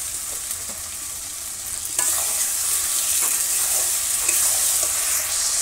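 Chicken pieces go into a hot pan over a village charcoal fire, frying with a constant high sizzle that swells louder partway through as the meat is stirred, with occasional scraping clicks.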